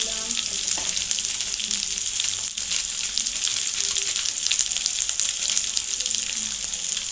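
Ground spices such as turmeric and salt sizzle and fry steadily in a hot pan of oil while making ghugni, a dense, continuous crackling hiss that stays loud and even throughout with no talking.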